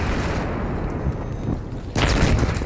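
Grenades going off in a first-person shooter video game, a continuous roar of loud booming blasts and battle noise, with a sharp fresh burst near the end, no talk.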